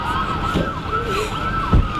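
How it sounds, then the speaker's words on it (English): An ambulance siren wails on arrival at a staged crash scene, its repeated rising and falling tone loud and close, with low vehicle rumble beneath. "Hey, the ambulance just got here."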